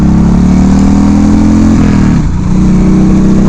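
A 1996 Harley-Davidson Evo Low Rider engine pulling away as the clutch grabs, a loud, close, deep rumble that rises in pitch, dips briefly at a shift, then keeps droning on.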